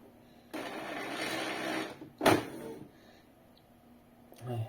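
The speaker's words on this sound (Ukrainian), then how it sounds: "Зібрав я принтер, щоб перевірити. Поки що ось так без панельки. Включаємо." Canon Pixma E464 inkjet printer, reassembled without its control panel, powers on with a near mechanical whir lasting about a second and a half, a sharp clunk, then quieter internal motor and carriage noises before another short whir.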